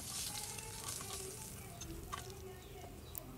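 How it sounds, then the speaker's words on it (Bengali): Eggplant (brinjal) slices frying in hot oil in a home kitchen, giving a steady soft sizzle and crackle throughout with a few sharper pops, moderately close and fairly quiet. "এখন আমি বেগুন ভেজে নিব, তার জন্য দিয়ে দিয়েছি বেগুন"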